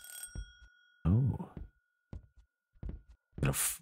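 A telephone rings in a horror video game, with repeated bursts of a bright bell-like tone separated by short pauses and a steady high tone lingering between them, heard fairly close.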